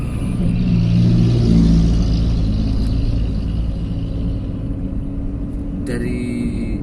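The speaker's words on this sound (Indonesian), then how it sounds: "itu ada mobil truk besar kontainer itu dari bandara" Large container truck rumbling along a toll road toward Makassar airport, a loud steady engine drone that slowly recedes, heard from inside a moving vehicle.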